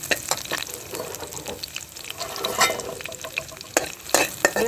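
Chopped garlic sautés in a few spoons of hot oil, a busy sizzle punctuated by quick, uneven scraping and clinking as it is stirred around the pan up close.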